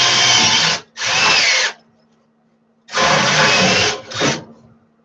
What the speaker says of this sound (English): My little drill will hold up.